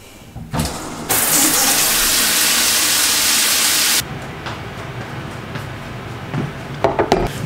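A shower runs with a loud, steady rush of water for about three seconds, then cuts off abruptly, leaving quieter bumps and a few light knocks nearby.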